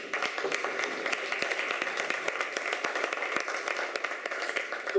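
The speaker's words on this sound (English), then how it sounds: "Let's give her a round of applause." Applause for a speaker at a genetics week event held by B. Braun: a steady, dense crowd clapping that fills the whole stretch at even loudness, with many hands patting together and no speech on top.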